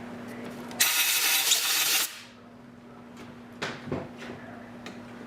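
A countersink cuts into a gun barrel breech during a rebreech job, giving a loud, bright, grinding whir that runs for about a second, then stops and leaves quiet shop noise with a few light knocks.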